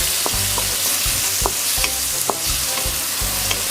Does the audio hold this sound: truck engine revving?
no